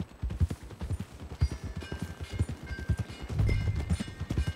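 Horse hooves clip-clop in a quick, steady rhythm in Red Dead Redemption 2, close and moderately loud, with faint background ambience and no talk.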